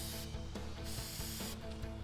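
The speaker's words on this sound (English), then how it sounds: "spray it holding it about 8 centimeters away" A continuous close aerosol spray of filter oil hisses steadily for a couple of seconds onto a K&N air filter, with faint rubbing noises underneath.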